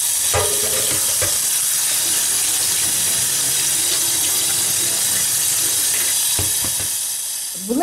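Tap water runs continuously into a sink as soybeans are rinsed, with faint stirring and clinks near the end.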